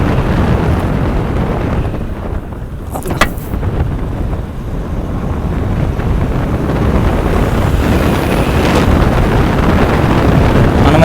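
Strong wind roars across the microphone during a motorbike ride from Srisailam toward Dornala, a loud, constant buffeting rush with low engine and road rumble beneath, nobody talking.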